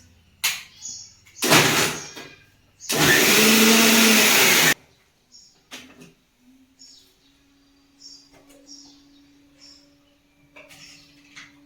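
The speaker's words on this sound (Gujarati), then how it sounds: "ફટાફટ મિક્સરમાં બનાવી નાખીએ જ્યુસ" A kitchen electric mixer whirs through one long, loud, steady run that blends leaves and water into green juice, with two shorter bursts before it and quiet household clatter and faint bird chirps afterward.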